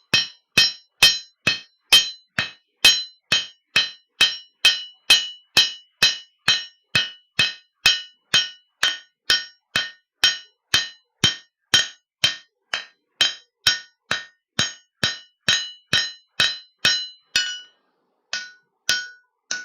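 A hammer forges the bevels of a chef's knife blade on an anvil with a long, even series of sharp ringing metallic strikes, roughly two per second, close and loud, with a brief pause near the end.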